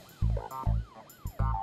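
A police siren wails in the Stick Em Up video game, rising and falling in quick repeated sweeps, with heavy low thumps landing in a regular beat beneath it.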